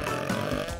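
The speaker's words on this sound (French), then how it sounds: "Oups! Un rot arc-en-ciel." A cartoon character lets out a big rainbow burp after gobbling a whole plate of candy, a low, rumbling belch that fills the short moment without pause.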